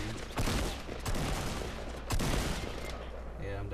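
Video game gunfire in a Fortnite Battle Royale duo match, a dense, continuous burst of rapid shots over loud game noise with a few stronger volleys, while players talk under it.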